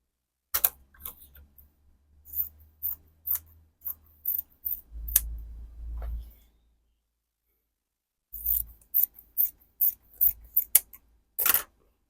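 Scissors snipping through Aso Oke fabric for a kimono bubu, a series of crisp close cuts in two clusters separated by a quiet pause.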